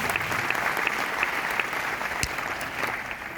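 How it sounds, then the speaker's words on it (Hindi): An audience at a DXN business meeting claps steadily and fairly loudly throughout, a dense continuous patter with a few sharper individual claps standing out. "आगे तो डॉक्टर लिम से एक जबरदस्त ताली होनी चाहिए"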